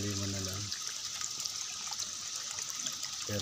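Spring water flowing steadily into a small tilapia pond being dug, a continuous close trickling and gushing wash, with brief voices at the start and end.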